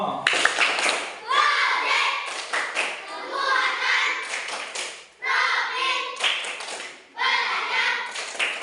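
A group of schoolchildren performs the rhythmic tepuk P5 clap chant at a school program event, several short bursts of clapping and chanting voices separated by brief pauses.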